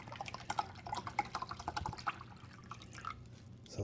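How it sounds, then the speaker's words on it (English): Plain water pours into the reservoir of a Keurig K-Latte single-serve coffee maker, a close trickling and splashing stream with dripping accents that thins out toward the end, with no talk. "I just filled this up with plain old water, and we're going to dump just water in here"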